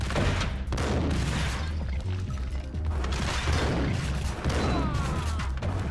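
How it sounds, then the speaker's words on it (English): A grenade goes off in the Max Payne video game amid a dense, continuous roar of gunfire and crashing blasts that fill the whole stretch loudly, with no pauses. "Will I survive that explosion?"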